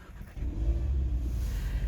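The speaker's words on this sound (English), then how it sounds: "Okay, let's fire up the car." A 2019 Audi TTS engine starts up, a low rumble swelling after a brief quiet moment and settling into a steady idle, heard alone and fairly close.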